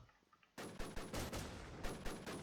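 Gunfire in the video game WarZ: after a quiet start, a sustained burst of rapid, loud shots erupts and keeps going in dense overlapping volleys, like a close firefight.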